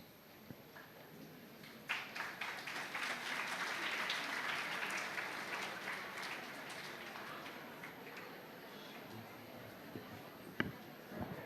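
Students in a hall clapping after an introduction at an interactive school session in Chennai: a crowd's applause swells quickly, holds for several seconds, then thins out and fades, with faint voices underneath.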